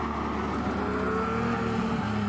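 A Ferrari Enzo's V12 drones steadily on an Italian road, a loud continuous engine tone with a low, even roar and no break.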